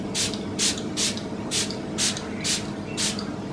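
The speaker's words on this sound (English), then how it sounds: "This is like my go-to primer water spray stuff." Seven short, evenly spaced hissing bursts of Smashbox Photo Finish primer water mist from a pump spray bottle, close and crisp over a quiet room background.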